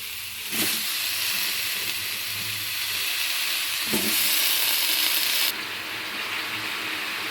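Pumpkin pieces hit a hot frying pan for a vegetable spinach dish, setting off a sudden loud hissing sizzle that surges again a few seconds later, close and continuous with no talk.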